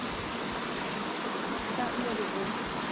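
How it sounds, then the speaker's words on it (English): A small creek feeding into Kitchen Creek at Ricketts Glen, a steady broadband rush of running water close by that holds even and unbroken throughout, with no voices over it. "Now this is a creek that leads into the other one, to the Kitchen Creek"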